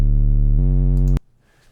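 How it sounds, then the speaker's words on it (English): A loud, buzzy triangle-like tone that steps up in pitch once, then cuts off abruptly into quiet room noise. "We've made this sine wave into a triangle."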